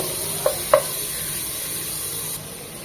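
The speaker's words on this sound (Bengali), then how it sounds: "সাথে কিছু চিংড়িও দিয়ে দিচ্ছি, এটাকেও জাস্ট 1 মিনিট একটু ভেজে নেব।" Shrimp fry in a pan for chicken soup, giving a steady close sizzle throughout, with two sharp utensil clinks near the start.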